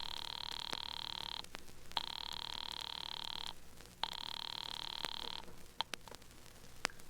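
An old-fashioned telephone bell rings in a radio drama, three long even rings separated by short pauses, then a few clicks, clear and alone at moderate volume.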